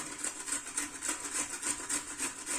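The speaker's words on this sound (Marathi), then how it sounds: "चला आपण आता हे मुळे किसून घेऊया" A radish rubbed against a hand grater in steady, rhythmic strokes, each a close, raspy scrape repeating about three times per second.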